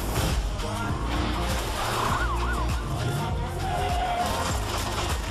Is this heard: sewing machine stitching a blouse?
no